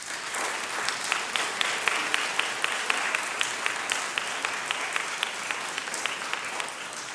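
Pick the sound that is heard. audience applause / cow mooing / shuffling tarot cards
audience applause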